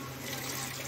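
Water left over from boiling peas is poured into masala cooking in a pan, giving a steady, continuous splashing pour that runs unbroken for the whole short stretch.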